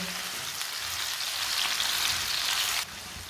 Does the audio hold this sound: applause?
no